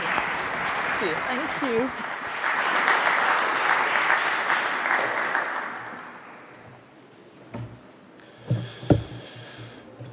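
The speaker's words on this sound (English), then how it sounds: "if we could just give the panel a round of applause" An audience at a trade and investment summit applauds a panel, a dense sustained clapping that fades out after several seconds, followed by a brief spoken thanks and a few bumps near the microphone.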